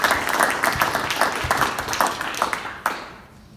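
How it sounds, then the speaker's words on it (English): An audience at a fintech trends panel applauds the panelists, a dense, steady spatter of many hands that fades slightly toward the end. "a big round of applause for our panelists"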